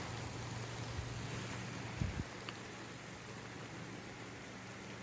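Steady rain hissing outdoors, a constant wash of noise with a low hum underneath and a couple of brief knocks.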